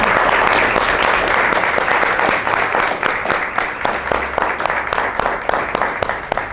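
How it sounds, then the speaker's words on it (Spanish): Audience applause at a talk about the Global Sumud Flotilla, a sustained dense wash of clapping from a crowd that gradually thins into sharper individual claps toward the end. "primero más que nada un aplauso y agradecimiento a ellos"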